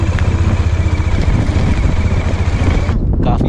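Strong wind at Pangong Tso lake in Ladakh roars and buffets the microphone in a steady, loud, close rush that drops away abruptly near the end.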